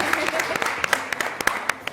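A studio audience at a Ramzan television show claps steadily, a brisk patter of many hands filling the short moment.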